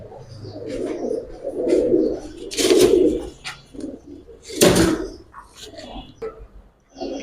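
Giribaz high-flyer pigeons coo in low, rolling bursts close by, while people talk over them throughout.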